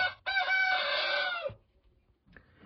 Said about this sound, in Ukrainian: От півні розспівались.